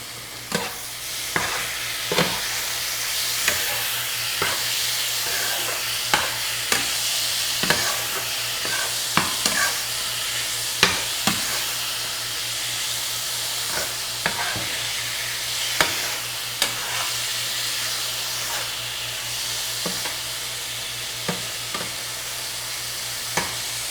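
Sazon seasoning stirred in a hot pan, sizzling steadily with a spoon scraping and tapping in an irregular rhythm of sharp clicks over a constant frying hiss, close and alone.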